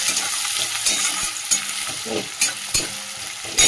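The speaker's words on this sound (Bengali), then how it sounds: "তেলটা তো গরম হয়ে গেছে, এর মধ্যে একটু রসুন ছোটো করে দিয়ে দিচ্ছি" Chopped garlic frying in hot oil for chowmein gives a loud, steady sizzle, broken by several sharp scrapes and clatters of a spatula stirring the pan.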